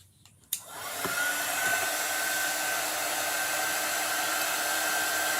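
A hair dryer blows steadily after a click, drying freshly applied paint on a holiday cardinal chalk craft piece, a constant close, fairly loud airy whir with a faint whine.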